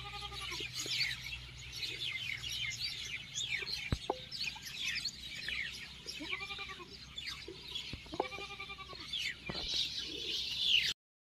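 Birds including mynas calling across farm fields after a flood, a busy outdoor chorus of chattering and squawking calls with repeated harsher cries and a couple of sharp knocks, moderately distant.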